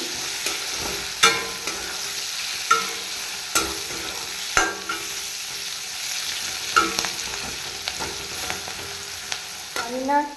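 Potatoes, carrots, beans, capsicum and chillies fry in a pan for chowmein, with a continuous sizzle broken by repeated scraping knocks of a spatula as the vegetables are stirred.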